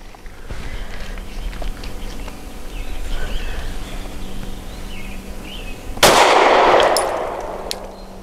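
A single loud shot from an Arex Delta M pistol loaded with Federal 138 grain segmented synthetic-jacketed hollow points, sharp and close, preceded by quiet handling noise and trailing off in a brief echo.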